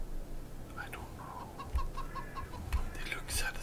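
Chickens in the video game Farming Simulator 22 cluck close by in a quick run of repeated short calls, with soft thumps and a faint voice in the background.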